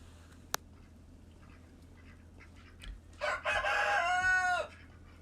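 A rooster crows once, loud and nearby, its call rising and then trailing off after a sharp click and some quiet background noise.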